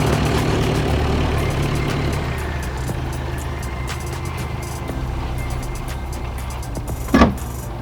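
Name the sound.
Delica L300 4D56T diesel engine running on trail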